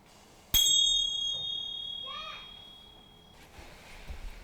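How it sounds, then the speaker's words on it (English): A bell is struck once to close a guided mindfulness exercise in a classroom, giving a sharp strike and a clear ringing tone that decays over a few seconds before faint room noise and children's voices return. "I'm going to ring the bell."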